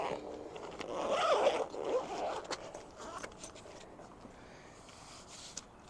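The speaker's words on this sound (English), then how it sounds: "Now I can fully zip it." A zipper is pulled shut around the padded cover of an ICECO JP50 portable fridge. It makes one quick rasping run near the start, followed by soft rustling of the fabric and light handling noises.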